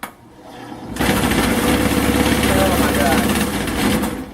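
A $160 Walmart wood lathe spins up and runs steadily, a loud, close motor hum with a rough turning rasp as an ash baseball bat blank rotates.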